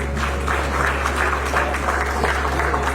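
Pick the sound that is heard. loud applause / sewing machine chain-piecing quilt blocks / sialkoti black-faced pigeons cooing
loud applause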